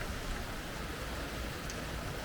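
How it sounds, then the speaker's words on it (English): Steady rainfall outdoors, an even, soft hiss of drops with no breaks, moderately quiet and alone without voices. "when it's raining like this"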